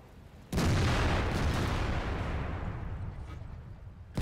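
A tank cannon fires in a World of Tanks company battle, one sudden loud boom that rumbles and slowly decays over several seconds, with another shot starting right at the end.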